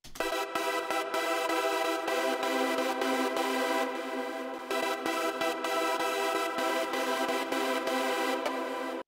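Synth chords from a Serum patch in an electronic production, sustained bright harmonic stabs in a steady pulsing rhythm, moderately loud and alone.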